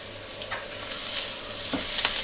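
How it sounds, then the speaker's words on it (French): Minced beef sizzles steadily in hot olive oil with garlic, a continuous close frying hiss broken by a few scraping stirs of a utensil in the pan. "Je vais ajouter du coup ma viande hachée. C'est du bœuf."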